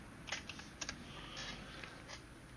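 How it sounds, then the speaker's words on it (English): Keys on a computer keyboard clack in a few quick, uneven bursts, faint and close, with short pauses between the strokes and a quiet workshop hum underneath. "So we'll come up here and type in piston rings."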